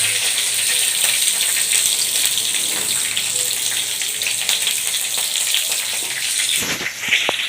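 Fresh neem leaves, just picked from the tree, fry in oil in a pan with a steady, bright sizzle that carries on evenly throughout, with no talk.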